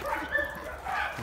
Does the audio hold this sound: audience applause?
no